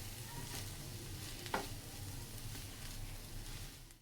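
Aloo samosa potato filling stirred in a hot pan, a steady soft sizzle with faint scraping, one brief sharper scrape midway, no voices.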